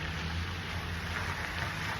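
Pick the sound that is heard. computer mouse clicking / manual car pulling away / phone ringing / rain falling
rain falling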